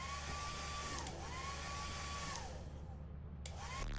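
A hair dryer item runs in the video game Lethal Company, giving a steady whirring hum throughout at moderate level, briefly dipping near the end, with faint voices in the background.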